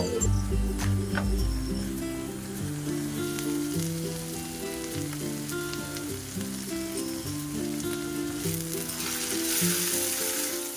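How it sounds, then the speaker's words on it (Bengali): Tomato paste fries in a pan with turmeric, coriander powder, chilli powder, salt and a little sugar, giving a constant close sizzle with occasional stirring scrapes, steady and moderately loud throughout. "টমেটো পেস্টটা হালকা কুক হয়ে আসলে দিয়ে দেবো হলুদ গুঁড়ো ধনে গুঁড়ো লঙ্কার গুঁড়ো নুন আর সামান্য চিনি দিয়ে ভালোভাবে কুক করে নেব"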